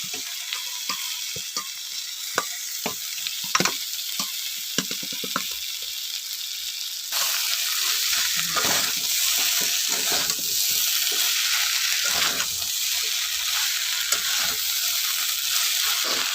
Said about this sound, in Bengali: সজনা ডাঁটা, এঁচোড় আর 2 রকম আলু দিয়ে একটু কষিয়ে নেবো মশলাটা